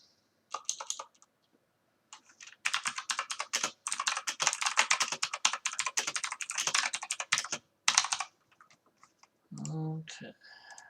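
Rapid clicking of a computer keyboard during a live-streamed Dungeons & Dragons session. Bursts of keystrokes arrive in uneven runs with short pauses between them, close to the microphone, and a brief murmur of voice comes near the end.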